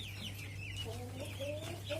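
Pelung chickens cluck softly inside a coop on a small, cramped plot, with several brief calls over a steady low background hum and a little faint talk.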